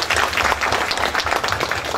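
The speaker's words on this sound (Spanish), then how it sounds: "Un aplauso para él." Audience applause following a speaker's remarks at a climate change forum, dense steady clapping from a crowd filling the whole moment without speech.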